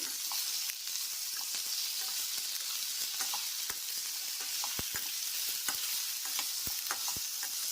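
Tomatoes frying in oil in a pan, a steady close sizzle with scattered sharp pops and crackles throughout, no voices.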